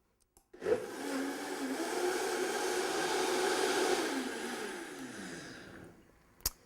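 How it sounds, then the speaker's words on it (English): A blender on its high setting whirs through a spinach green smoothie, starting abruptly, roaring steadily for several seconds, then dropping in pitch as it winds down and stops, followed by a brief click. "I'm now going to put it on the high setting for a minute so it really fully blends and breaks down completely"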